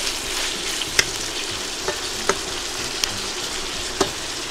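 Chopped onion softens in a cataplana over the flame, giving a steady, even sizzle with a few light clicks and taps of stirring scattered through it.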